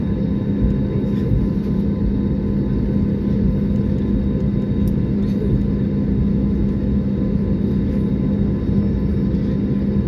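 Constant deep engine rumble and roar from inside an airplane accelerating down the runway for takeoff, steady and loud throughout, with no voices.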